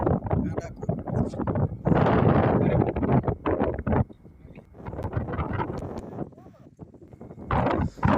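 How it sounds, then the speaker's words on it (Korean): Strong gusts of wind roar and buffet the microphone in heavy bursts, with people talking underneath at times. "아 오늘 또 바람이 많이 부는군요 바람 소리가 거칠어요"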